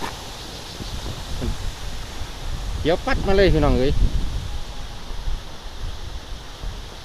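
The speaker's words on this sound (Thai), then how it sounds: "ทั้งลม ทั้งฝนนะครับเนาะ" Wind and rain sweep through a forest, forming a steady broadband rushing hiss throughout. Someone talks briefly near the middle.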